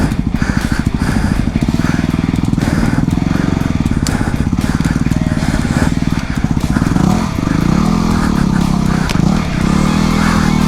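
A dual sport motorcycle revving hard while being powered through deep mud, its engine droning loud and close with rising and falling pitch as the rider pushes on.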